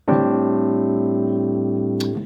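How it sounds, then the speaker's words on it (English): A single rich piano minor 11 chord struck once and left ringing, slowly fading before a soft release noise at the end. "I'm going to show you a really cool voicing for a minor 11 chord"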